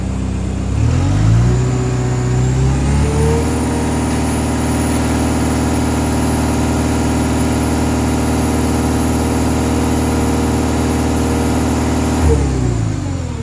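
Komatsu SAA4D102E diesel engine on a D31PX-21 dozer revving up from low idle to a steady, loud high idle of around 2300 rpm, holding a constant drone before dropping back at the end.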